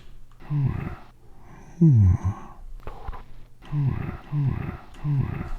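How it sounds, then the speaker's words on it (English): In the DOOM video game, the player's grunt has been swapped for an ASMR-style mouth sound: a series of about five breathy, low, rasping grunts close to the mic, with short gaps between them. "Oh yeah, and the grunting sound."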